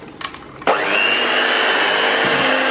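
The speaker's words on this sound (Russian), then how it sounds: "Тесто у меня уже с трудом проворачивается венчиками. Поэтому миксер я убираю" Electric mixer with whisk beaters kneading thick kulich (Easter bread) dough: a short clatter, then the motor starts up sharply and holds a loud, steady whirring drone to the end.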